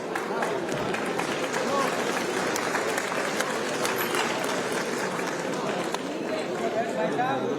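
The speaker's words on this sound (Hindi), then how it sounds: "आप सभी की जोरदार तालियों की गूंज के साथ" A large audience at a national poetry gathering in Jaipur applauds steadily, a dense wash of clapping from many hands that holds for several seconds at a moderate level, with a faint murmur of crowd voices underneath.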